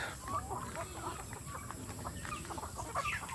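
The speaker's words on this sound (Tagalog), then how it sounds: "Dito rin meron tayong mga pabo at manok." Chickens and turkeys cluck and chatter continuously close by, a busy flock of overlapping calls with a low background murmur.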